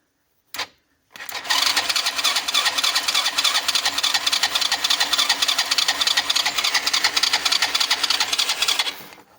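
Yamaha Jog scooter engine cranking and catching in freezing cold: a brief burst, a pause, then a loud, steady buzzing two-stroke run that holds close and even for about eight seconds before cutting off.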